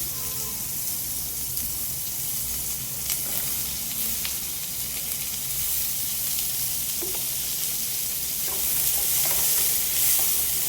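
Chopped onions sizzle steadily in hot oil in a pan for pumpkin pulusu, a continuous close frying hiss with occasional stirring scrapes and no voices.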